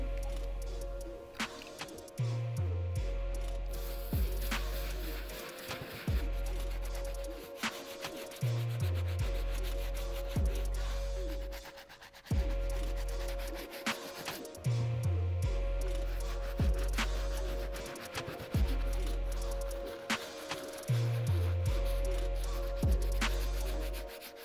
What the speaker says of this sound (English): move straight to the medium bristle brush and start attacking the uppers